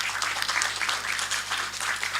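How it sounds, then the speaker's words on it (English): Audience applause welcoming Professor Poonam to the dais at a business conclave: steady, dense clapping that holds at an even level throughout, with no voices over it. "with a huge round of applause, let's welcome Professor Poonam to the dais"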